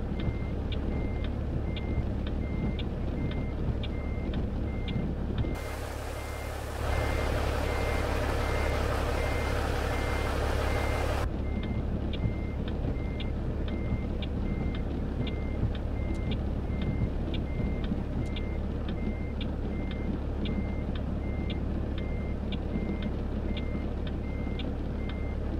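Steady, evenly spaced reversing beeps from a truck backing a trailer in American Truck Simulator at night, with a constant engine rumble beneath and a brief burst of broader noise partway through.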